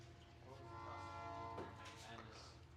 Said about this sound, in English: Another train's coming through.